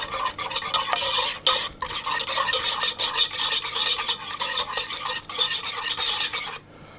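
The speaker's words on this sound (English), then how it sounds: "add 2 large eggs and mix that round as well" Eggs being mixed into kladdkaka chocolate cake batter, a steady wet stirring and scraping with utensil clatter against the bowl, close and continuous for several seconds.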